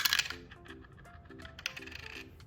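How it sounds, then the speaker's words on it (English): Dice tumbling and clattering across a hard surface, a quick series of light, uneven clinks and taps spread over a couple of seconds. "So let's roll the dice."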